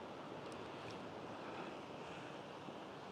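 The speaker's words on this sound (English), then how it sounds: "So this is the beach from the other area" Waves washing onto the beach at Playa Paraíso, a steady, faint broadband surf rush mixed with wind noise on the microphone, with no voices and no distinct breaks.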